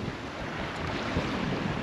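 Wind rushes steadily across a sailboat under a reefed mainsail and shortened genoa in gusty conditions, a broad continuous roar with microphone buffeting and the wash of waves, close and loud with no talk.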